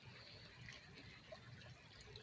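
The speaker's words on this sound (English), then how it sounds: "Cool waterfall." A riverside waterfall gives a faint, continuous rush of falling water, heard steady and unbroken from some distance with no speech over it.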